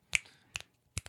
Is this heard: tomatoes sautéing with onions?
no